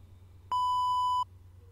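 A multimeter touching the terminals of a toroidal inductor emits one steady, piercing continuity beep lasting under a second, loud and clean against a quiet low hum, with no talking.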